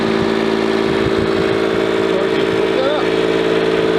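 Heavy equipment diesel engine idling steadily, then throttled up, the drone rising and staying loud throughout with a person speaking over it.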